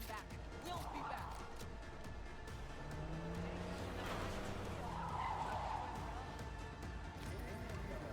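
Johnny's Porsche skidding in Cyberpunk 2077: a sustained, steady tire-skid and engine roar runs throughout at constant loudness, with a voice talking faintly underneath.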